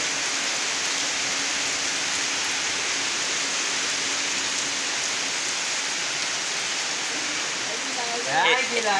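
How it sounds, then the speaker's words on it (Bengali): Heavy rain pours down in a steady, dense hiss that holds evenly throughout, with a brief clatter near the end. "দেখছো বৃষ্টি কত জোরে হচ্ছে"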